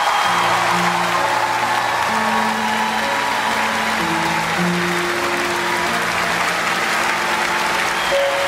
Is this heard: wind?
no